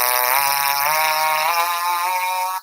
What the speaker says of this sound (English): what you're hearing is that only the vibration of the vocal cords here